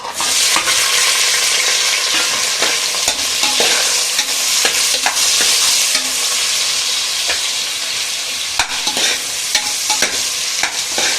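Onions sizzle loudly in hot oil for chicken biryani, a constant bright crackling hiss with occasional sharper pops and stirring scrapes.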